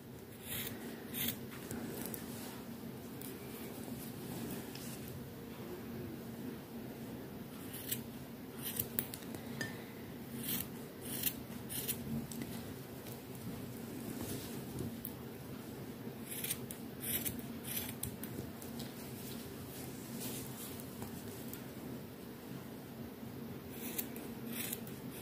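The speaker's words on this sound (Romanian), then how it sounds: "Și apoi băgăm foarfeca. Și venim și tăiem exact pe semnele care" Scissors snip steadily through the collar of a knitted sweater as it is cut along marked lines, giving soft, repeated close-up cuts at a low level with light handling noise and no talk.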